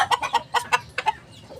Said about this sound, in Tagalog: nakakulambo yan mga sisiw natin mga idol